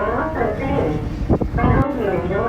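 Piano notes played together to mimic a human voice, forming a buzzy, speech-like stream with rising and falling pitch that runs steadily for a few seconds.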